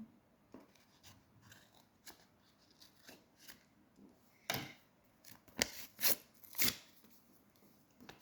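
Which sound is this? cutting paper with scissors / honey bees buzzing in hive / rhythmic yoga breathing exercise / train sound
cutting paper with scissors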